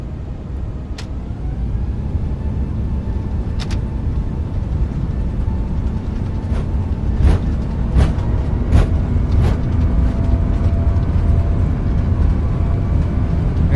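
FlyByWire A380X airliner engines at taxi power in MSFS 2024, a steady, loud low rumble with a faint whine above it and a few brief clicks, with no speech.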